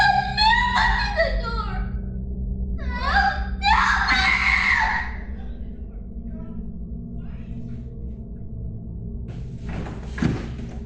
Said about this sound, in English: they suddenly heard their son screaming in terror